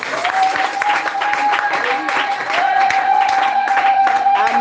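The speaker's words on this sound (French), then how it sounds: "Tu peux acclamer pour toi-même." A church congregation cheers and applauds loudly, dense clapping with shouts and voices throughout, steady and close.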